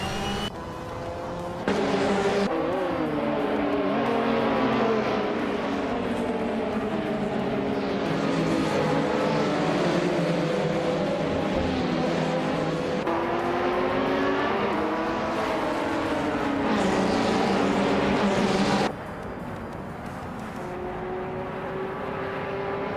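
Race cars roaring around a track in a racing video game, a 2008 KTM Crossbow GT4 among them, with a loud continuous engine drone whose pitch rises and falls through gear changes and corners.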